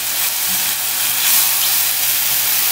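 Sliced vegetables sizzle steadily in a pan, a loud, even, broad hiss that carries on without a break, with no talking over it.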